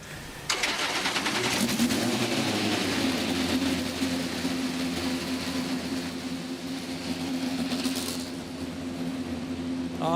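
INDYNXT race car engines fire up together on the St. Petersburg street circuit, a sudden loud roar that settles into a sustained, dense mechanical drone of many cars idling and blipping in the distance.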